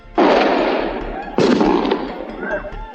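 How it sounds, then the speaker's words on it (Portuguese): Gunshots and bomb blasts during a prison riot at a São Paulo state penitentiary in Presidente Venceslau: two loud, booming bursts about a second apart, each roaring out and slowly fading. "Tiros e bombas."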